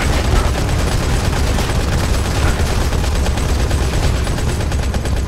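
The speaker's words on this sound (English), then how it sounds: "Keep on firing, goddammit!" Dense, continuous automatic gunfire and rapid shots from the combat video game Modern Combat Blackout, loud and unbroken throughout with no clear voices.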